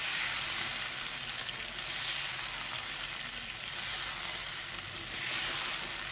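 Butter chicken karahi masala with dried red chillies, Kashmiri chilli and turmeric is gently stirred in the pan, giving a soft, even sizzle at low volume that swells and eases slightly, with no voices.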